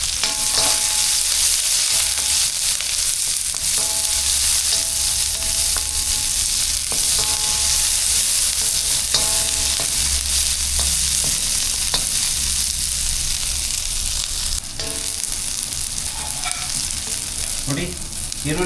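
Chopped onion frying in oil in a pan, a steady, dense, close sizzle throughout with occasional scraping stirs and clatters, no talking.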